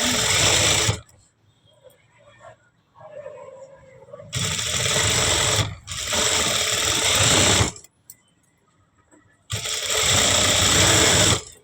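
A sewing machine stitches the edge of a blouse neck piece in bursts: a loud steady mechanical whir runs for about a second, then stops, then three longer runs follow, with quiet pauses between them and a voice talking in the gaps.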